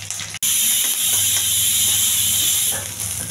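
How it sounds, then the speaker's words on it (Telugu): A pressure cooker of green peas lets out its whistle, a loud, sustained, airy hiss of escaping steam that starts abruptly after a brief gap and holds steady to the end. "బఠానీ విజిల్ వచ్చిందండి"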